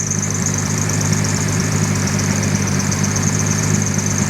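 A Vespa PX200 scooter engine runs at a steady idle, a loud, close, continuous mechanical hum with a low throb and even vibration throughout, no voices over it.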